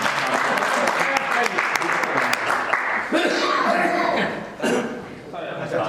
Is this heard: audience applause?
yes